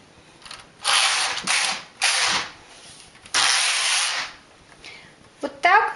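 A knitting machine carriage is pushed back and forth in several quick passes, each one a loud mechanical rattling sweep with pauses between, knitting a row of a square tuck-stitch pattern in pink yarn.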